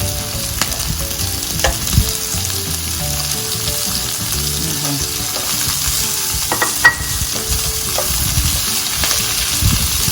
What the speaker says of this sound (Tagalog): Let's cook the zucchini a bit.